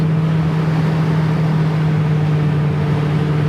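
Restomod 1969 Chevy Camaro with 3.73 gears cruising at 70 mph in overdrive around 2,500 rpm, a loud, steady droning hum of engine and road noise inside the car, unchanging throughout.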